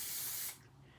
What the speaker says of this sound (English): Normally what I do is this. I aerosol the edges and then I glaze them